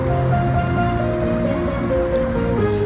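Heavy rain falls steadily in Lachung, Sikkim, a dense, continuous wash of noise with no break or talk throughout.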